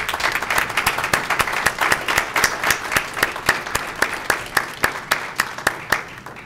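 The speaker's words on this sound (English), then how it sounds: "let's give them a round of applause for being here." A small audience at a school district governing board meeting applauds students, loose rhythmic clapping with distinct individual claps audible in a steady beat-like pattern, close and moderately loud, fading slightly at the end.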